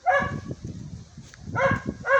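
A dog barks in short yapping bursts, two clear clusters near the start and end with quieter yips between, close and moderately loud over light background noise.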